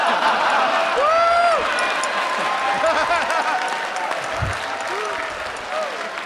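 Audience applause fills the room throughout, a dense steady wash of clapping from a crowd with a few voices and shouts rising over it.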